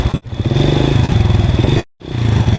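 A motorcycle engine revs hard and pulses during a wheelie, cutting out briefly twice before the throttle opens again, loud and close.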